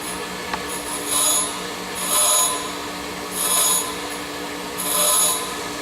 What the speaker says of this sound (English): I want to grind away my high spot.